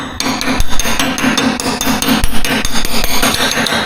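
Metal body spoon tapped against ridges and crowns on a car quarter panel, a steady series of close, sharp knocks with a ringing sheet-metal edge, about two or three strikes per second with no talk.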